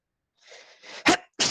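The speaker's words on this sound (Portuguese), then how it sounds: "Precisava espirrar aqui." A single sharp sneeze close to the microphone during a physics lecture, preceded by a short breathy inhale build-up and followed by a brief second burst, with no talking over it.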